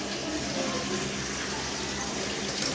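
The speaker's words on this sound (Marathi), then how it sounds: "गरम पाणी टाकलं" Hot water poured into a large pot of chicken curry (rassa) for about sixty people, a steady rushing pour that runs continuously and fairly loud, with no talking over it.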